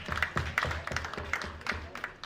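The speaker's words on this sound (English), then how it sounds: "Let's give them a round of applause once again." Scattered applause from the audience at a youth innovation summit: a fairly sparse spread of individual claps, close and moderately loud, tapering slightly toward the end.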